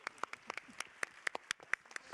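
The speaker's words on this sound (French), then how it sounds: "On peut les applaudir." A small conference audience claps for a round-table panel, with scattered, uneven claps rather than dense applause, each crisp and close, over a quiet room.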